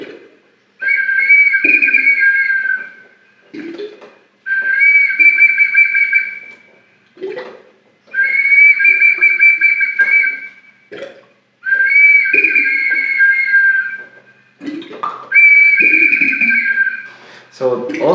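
Ancient Peruvian double-chambered clay whistling object imitating the huerequeque bird, giving four or five sustained warbling, bubbling whistles separated by pauses, with short speech-like bursts between them.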